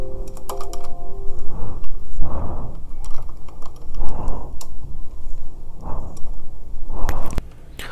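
Fingers typing a name on a computer keyboard, sounding as quick bursts of close key clicks with short pauses between them, over a steady low hum with no talking.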